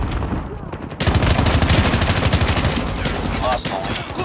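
Gunfire in the Call of Duty Mobile video game: a close, loud, sustained run of rapid automatic shots rattling for several seconds after a brief lead-in, with a voice briefly heard near the end.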